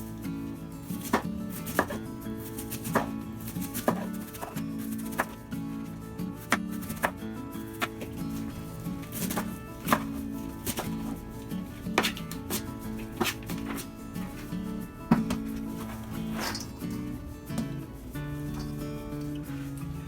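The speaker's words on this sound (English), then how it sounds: "I'm going to go ahead and cut the rest of this cabbage up" A knife chops cabbage on a board for fermenting, in steady, rhythmic, close thuds and cuts over a continuous tonal background.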